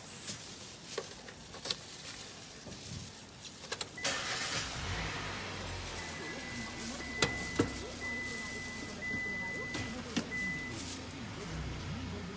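A car engine cranks and starts, then settles into a steady, moderately quiet running hum as the car pulls away and drives, heard close from inside the cabin with faint interior clicks and no talk.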